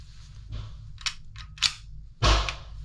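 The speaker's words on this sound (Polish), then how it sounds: "Następnie blokujemy zamek w tylnym położeniu." An HK USP pistol is handled during unloading, giving a few crisp metallic clicks and slide clacks, ending in a louder snap as the slide locks back, close and clear.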